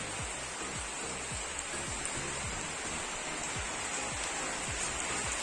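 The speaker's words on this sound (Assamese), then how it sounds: "বাহিৰত বৰষুণ বহুতেই বেছি" Heavy rain pours outside in a dense, constant hiss, loud and unbroken for the whole stretch with no voices.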